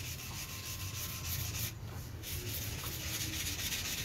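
Continuous abrasive rubbing, 320 to 400 grit sandpaper scraping back and forth on a knife blade up close, with a brief lull partway through.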